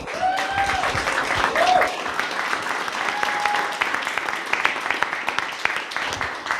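Audience applause at a consumer pitch competition, dense and steady clapping from a crowd throughout, with voices and cheers mixed in beneath it.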